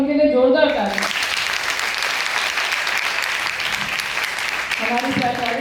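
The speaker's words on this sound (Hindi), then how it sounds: "एक बार उनके लिए जोरदार ताली।" Hall audience at an Indian memorial discussion and award ceremony breaks into sustained, loud clapping, with a voice speaking over the start and again as the applause carries on near the end.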